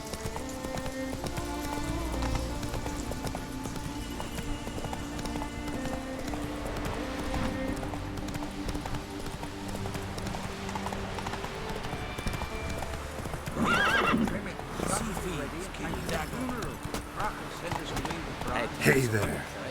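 Roach, the horse in the video game The Witcher 3, gallops with steady clip-clop hoofbeats and a whinny near the end, under game music and voices.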